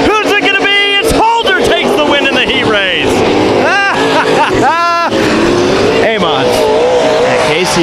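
Race cars roar around an oval racetrack at a small four-car night race, engines rising and falling in pitch as they pass close by, with tires squealing and a crowd murmuring underneath.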